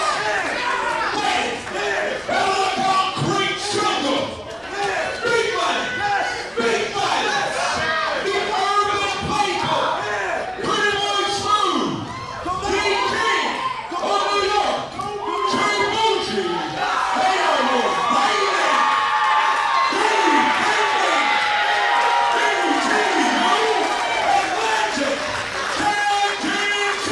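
A wrestling crowd roars and cheers without letup as tag team champions make their entrance at an ETU Atlantic Tag Team Championship event, a loud, dense wall of shouts and whoops lasting throughout.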